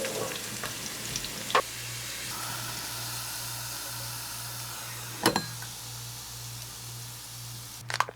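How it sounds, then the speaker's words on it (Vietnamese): Shallots frying in hot oil in a pan give a steady soft sizzle throughout, with a few sharp clinks of a utensil against the pan. "Tiếp tục mình sẽ cho hành vào phi tương tự."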